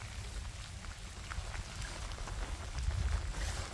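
Steady rain falls at night beside a bridge, a dense, even hiss of drops with a low rumble underneath, moderately loud and continuous without speech.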